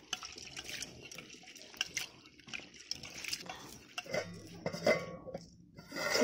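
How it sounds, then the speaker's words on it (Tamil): Water sloshing and splashing in a metal pot as lentils are swirled and rinsed, with clinks of the pot and scraping. "இப்ப நம்ம பருப்பை களைஞ்சு எடுத்துக்கலாம்."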